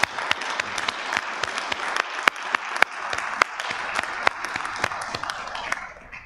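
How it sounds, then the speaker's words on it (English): Applause at Bill's funeral, a celebration of his life: a steady, dense round of clapping from a gathered crowd, with sharper individual claps popping out, fading slightly at the end. "So I want to celebrate his life right now with a round of applause."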